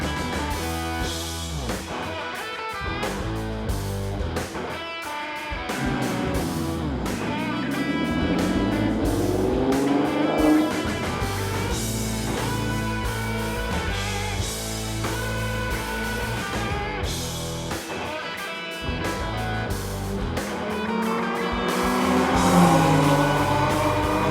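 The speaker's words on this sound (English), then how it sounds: "I ran a 1 minute 40-second lap in the Cayman R, so it was time to see what Mike's car could do." Porsche Cayman flat-six on a track lap, the engine note climbing and dropping through gear changes, sustained and moderately loud from inside the car.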